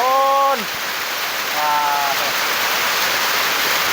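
Heavy storm rain pours down in a constant broadband hiss, with a brief tonal sound early on and a faint voice-like tone partway through.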